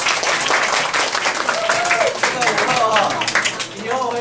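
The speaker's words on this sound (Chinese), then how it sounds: "鼓掌一下" An audience at a classroom-style talk on shrimp claps in a lively burst of applause, with voices and a few exclamations rising over the clapping.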